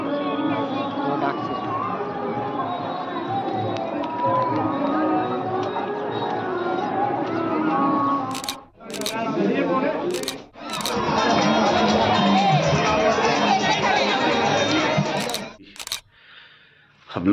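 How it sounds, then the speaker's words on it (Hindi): Crowd of devotees at Nidhivan temple in Vrindavan, a dense steady murmur of many voices with someone talking over it, broken by a few sharp clicks and brief quiet gaps. "और भीड़ बहुत है, आप देख सकते हैं निधिवन में कितनी भीड़ है"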